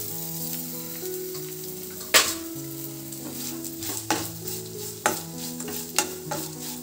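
Chopped coconut fries in a pan for a chicken sambar. The steady low sizzle sits under tonal background music, and a few sharp stirring scrapes land about once a second near the end.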